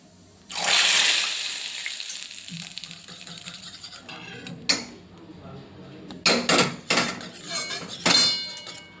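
Buttermilk is poured into a hot pan of oil tempered with curry leaves for a Kathiawadi dhaba-style vagharelo rotlo. A sharp, loud hiss flares up and fades over about a second, followed by clinks and scrapes of utensils against the pan.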